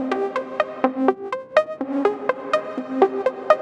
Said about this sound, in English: So right now we have this arpeggiator sound which sounds like this.